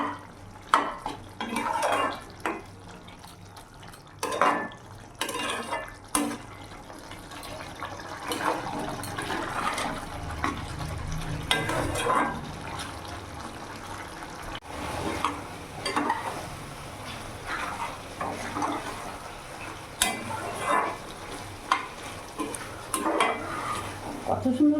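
Mushroom gravy fries in a pan over a gas flame with a soft sizzle, broken by irregular scraping and clinking as it is stirred. The sound is close but fairly quiet, coming in uneven bursts.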